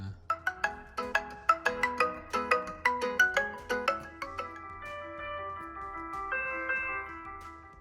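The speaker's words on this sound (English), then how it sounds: "Let's see what kind of ringtones they got in here." A bright chiming Poco X3 smartphone ringtone plays a quick, plucked melody of repeated notes, then settles into softer sustained tones; fairly close and clear.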